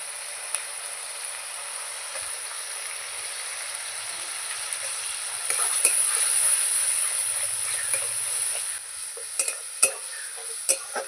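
Ginger-garlic paste cooks in a pan with a faint, constant sizzle, while a spoon stirs and scrapes, ending in a few sharp clinks against the metal.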